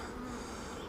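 Honey bees buzz steadily inside an open hive box of honey supers, a dense close droning hum that holds without a break for the short moment.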